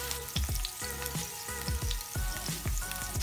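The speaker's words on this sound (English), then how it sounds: "And that's going to saute for about 3 to 5 minutes." Onions sautéing in a pan for a keto masala steak dish sizzle steadily at close range, with repeated soft stirring scrapes and spatters punctuating the frying hiss.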